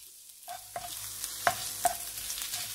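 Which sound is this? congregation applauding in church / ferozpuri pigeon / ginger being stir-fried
ginger being stir-fried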